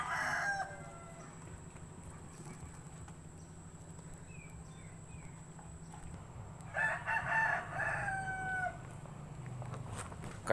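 Chickens cluck and a rooster crows outdoors, two loud crowing calls rising out of a steady background hum, with softer clucks and bird chirps scattered in between.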